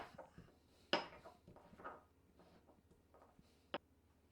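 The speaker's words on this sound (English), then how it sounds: "I'm just going to crack them open with my" Juniper berries being cracked in a mortar in a quiet kitchen give two sharp, close knocks, one near the start and one near the end, with faint scattered clicks between.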